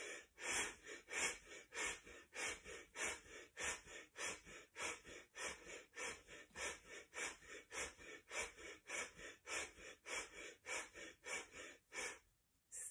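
Rapid rhythmic yoga breathing during a breath exercise with elbows at the sides and hands in fists, about two dozen sharp, evenly paced breaths close to the mic, then a brief pause near the end.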